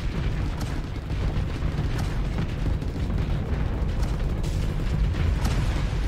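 Dense, continuous rumbling barrage of missile fire and explosions in the space combat game Starsector, with the Nexerelin mod, a heavy low-end roar of overlapping booms running steadily throughout with no voice.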